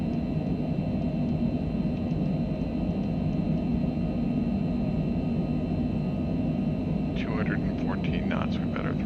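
Steady, loud simulated aircraft engine drone from Microsoft Flight Simulator on a flight from Miami Executive toward Port-au-Prince, a continuous broadband rumble throughout with a few brief higher tones near the end.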